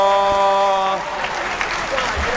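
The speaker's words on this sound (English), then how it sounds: "right at the end, everybody gets cheered in" At the end of a puzzle round at a world puzzle championship team event, a timer's steady electronic tones cut off and give way to a burst of crowd cheering and applause, with voices mixed in.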